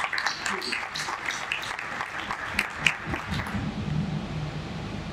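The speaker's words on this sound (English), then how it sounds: "Round of applause to Tapelo," Conference audience applauding at a closing ceremony, a steady wash of clapping spread across the room with some voices mixed in, fading slightly toward the end.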